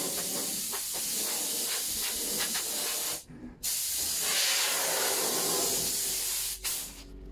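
Compressed air blowing dust off a freshly painted window board, a loud, close, continuous hiss that cuts out briefly twice and then resumes.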